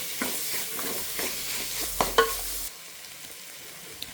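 Avalakki gojju, a flattened-rice dish, stirred in a pan with a spoon, soft scraping and gentle sizzling for a few seconds with a couple of sharper clinks of the spoon against the pan before it goes quiet.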